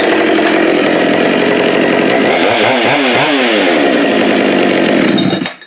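A Husqvarna 572xp chainsaw fires up on a single pull and revs loudly, its engine note rising and falling up close before cutting off abruptly at the end, with no one speaking.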